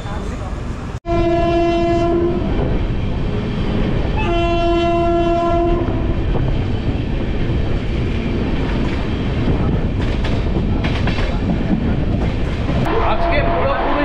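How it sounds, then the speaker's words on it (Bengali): The 13115 Humsafar Express pulls out of Naihati station, sounding two long horn blasts over a steady rolling rumble of the wagons, with rhythmic wheel clatter building as it gathers speed. "ছেড়ে দিল আমাদের ট্রেন নৈহাটি থেকে 2 মিনিটের হল্ট দিয়ে"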